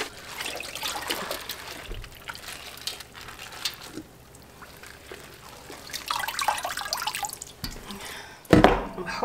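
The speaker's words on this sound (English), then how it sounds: "So I'm just gonna drain some of this water and ice off." Water and melting ice drain off a chilled turkey in a cooler, with steady trickling and dripping that swells and fades, and a louder splash near the end.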